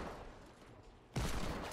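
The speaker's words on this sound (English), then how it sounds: "Why can't I hit with the hand cannon?" Hand cannon gunfire in a video game: a single loud, sudden blast hits near the end, after a stretch of quieter game noise, and its roar holds to the close.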